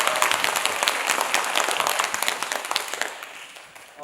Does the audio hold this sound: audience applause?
yes